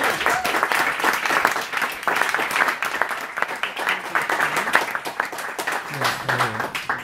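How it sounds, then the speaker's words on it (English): Applause for a performer at a Big Apple Jazz show, a dense crowd clapping under an amplified voice speaking over it, with faint music-like tones near the end. "Please, a wonderful, wonderful round of applause for Mr."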